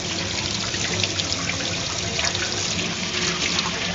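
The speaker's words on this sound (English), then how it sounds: "The best way to get off the chocolate is hot water, as much as you can stand it because it will melt it off." Hot water streams steadily from a tap over chocolate fountain parts being rinsed, a constant splashing rush with small spattering changes, near and alone without talk.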